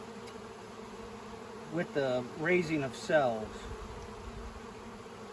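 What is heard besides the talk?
bees buzzing in a nuc stack hive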